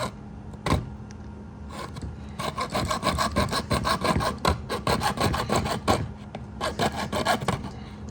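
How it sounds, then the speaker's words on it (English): A handheld bandsaw cuts through a sheet of Kydex plastic with a steady, raspy grinding that rises and falls in short bursts as the blade works through the material, close and fairly quiet. "This is like just a handheld bandsaw"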